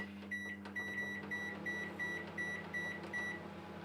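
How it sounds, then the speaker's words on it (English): Low steady hum of a running microwave oven cooking jacket potatoes, with a pattern of quiet repeating beeps over it, fairly faint and without voices. "So I'm going to set the microwave for 10 minutes to start with."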